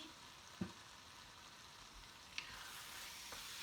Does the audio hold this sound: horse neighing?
no